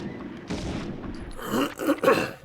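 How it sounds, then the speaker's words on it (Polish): A few rough throat-clearing grunts, close and moderately loud, following a brief hissing burst. "przepraszam za chrząkanie"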